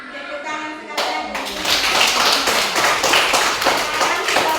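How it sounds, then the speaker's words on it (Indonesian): Classroom audience clapping after a student group presents homemade instruments of nails and iron, dense steady applause rising after a quiet start and continuing with voices mixed in. "Tepuk tangan sekalian."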